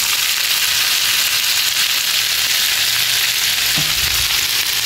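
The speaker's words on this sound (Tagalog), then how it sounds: "isunod ko na tong hipon. Halo-haloin ko lang siya guys." Shrimp and garlic fry in a hot pan while being stirred, giving a loud, steady sizzle and crackle throughout, with a brief scrape of the utensil near the end.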